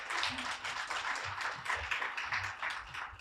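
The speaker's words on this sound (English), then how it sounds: "Please give them another round of applause" An audience at a school rights event gives a faint, distant round of applause, the crowd's clapping spreading into a continuous patter.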